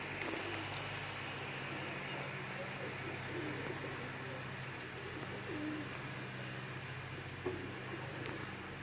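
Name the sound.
pigeon cooing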